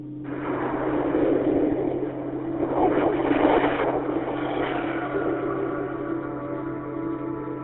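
A steady, rushing roar like wind and heavy weather, swelling in the middle and holding on throughout with no voices.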